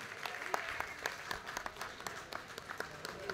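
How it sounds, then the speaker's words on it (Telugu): A crowd at a folk song gathering claps in a scattered, uneven patter of individual hand claps, faint and somewhat distant, with no talking over it. "గట్టిగా చప్పట్లు కొడితేనే నేను నిలబడతా"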